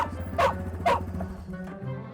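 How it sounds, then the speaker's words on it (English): A farm dog barks twice in quick succession, close and fairly loud, over a low rumbling outdoor background. "Dog"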